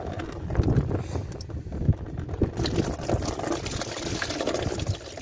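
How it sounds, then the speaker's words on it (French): Steady wind buffeting the microphone outdoors, a low rumbling roar with gusty bursts, mixed with a watery, splashing texture throughout. "puis en plus il y a du vent."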